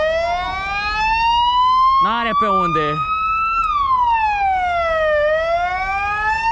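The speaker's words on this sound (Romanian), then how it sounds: "Vine ambulanța, șefule." An ambulance siren wails loudly and close on a city street in Romania, its tone sweeping up and down continuously while a voice briefly speaks over it.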